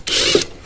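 A Kobalt 24v brushless impact driver removes a lawn mower blade in one short, rattling, hammering burst, close and alone.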